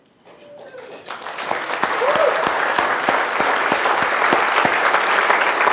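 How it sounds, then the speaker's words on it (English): Gala audience at the Oklahoma City/County Historical Society applauding honoree Jack Brooks, clapping that swells from quiet into a full, steady roar with a few louder individual claps standing out. "keep that applause going for Jack Brooks"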